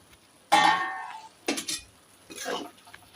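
A metal lid comes off a pot of steamed matki sprouts with a sharp clink and scrape, followed by a couple of softer metallic knocks and rattles, close by in a quiet kitchen.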